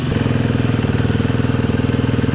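A KTM 350 EXC-F dirt bike engine idles close by with a steady, even mechanical beat, loud and continuous, with no talking.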